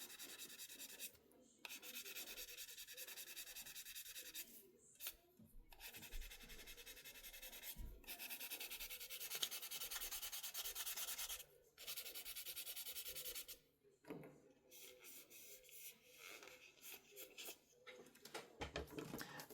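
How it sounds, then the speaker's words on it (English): Steady scratchy rubbing of sandpaper on a plastic model car body, in several long strokes with brief pauses between, close by and fairly quiet. "as you get progressively finer on your sanding, you'll actually start to polish the plastic out"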